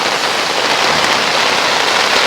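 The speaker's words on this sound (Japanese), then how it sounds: "すごい雨音で音拾えてるかわかんないですけど" Torrential night rain on a deserted island campsite in Wakayama pounds down in a dense, unbroken roar, loud and close as if drumming on a small tent, with no pauses or voices.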